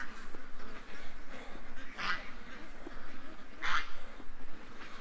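Ducks in a farmyard, some of them limping, quack twice, in short separate bursts about two seconds apart. The calls sit faint to moderate over a steady background murmur, with no talk.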